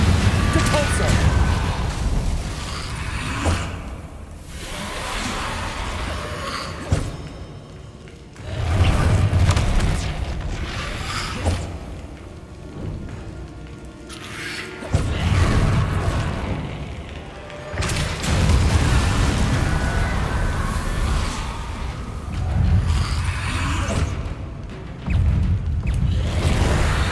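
Spells cast in combat in Hogwarts Legacy, heard as repeated loud booming blasts and whooshes rising and falling over a long stretch of continuous game noise.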